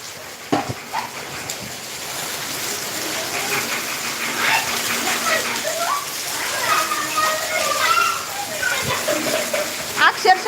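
Heavy downpour with hail and wind, a continuous, close rush of falling and running water with scattered sharper knocks. A muffled voice sounds faintly under it.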